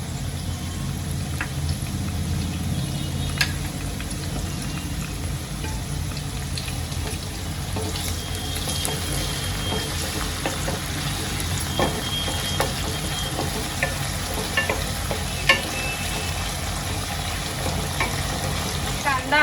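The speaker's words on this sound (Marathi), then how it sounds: "आपण थोडासा तेलामध्ये परतून घेतलेला आहे" Ginger garlic paste sizzling and being stirred in hot oil in a pan, a steady frying crackle with occasional spoon scrapes and clinks throughout, close and continuous, while preparing masala rice.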